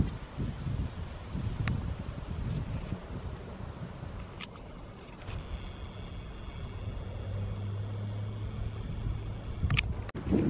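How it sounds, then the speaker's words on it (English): Wind rumbles steadily into a windscreened microphone at an excavator work site, with low buffeting and rustling, a distant engine drone and a few faint clicks. "the wind's picking up pretty good right now"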